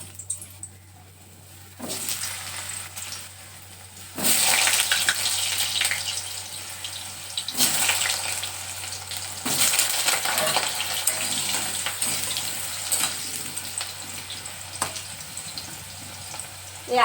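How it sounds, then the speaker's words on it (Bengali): Sliced potatoes hiss in hot oil in a kadai, a bright broadband sizzle that surges as they hit the pan and then holds steady, alongside a low electrical hum. "আমি তেল গরম হয়ে গেছে, এখন আলুগুলো দিয়ে দিচ্ছি"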